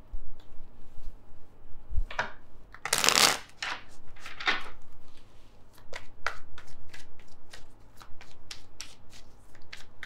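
Tarot cards are shuffled by hand before one is drawn. Crisp riffles and slaps repeat in quick bursts, with one loud flurry early on, all up close and with no talking.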